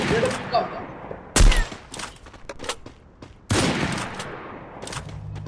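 Video game gunfire: several single shots and two loud, sharp bursts ring out, with softer distant pops in between and voices of players talking during the match.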